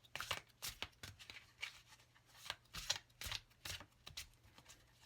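Psychic Tarot Oracle cards are shuffled by hand in quick repeated riffling bursts, a steady run of soft papery flicks. The sound is faint and close, with no talking.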